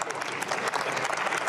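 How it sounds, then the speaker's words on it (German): Applause in the German Bundestag during a budget debate on finance, a dense, steady clatter of many hands clapping at once, loud and close, filling the whole moment with no voice on top. "Da kann man klatschen, ja?"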